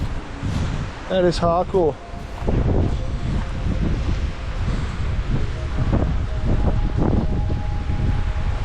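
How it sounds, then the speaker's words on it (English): Strong wind buffets a hilltop in Wrattens National Park, Queensland, roaring and gusting steadily against the microphone while someone speaks briefly over it. "Look at this wind."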